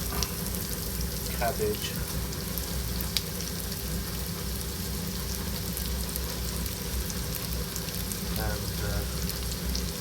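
Vegetables such as cabbage and carrot stir-fry with curry leaves and pandan leaves for Sri Lankan chicken kottu, a steady close sizzle running throughout with brief clinks of stirring while a person talks over it.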